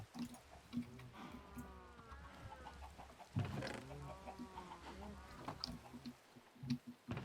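Chickens cluck and chirp in short, scattered calls while being fed in the Minecraft game, over a soft, steady background.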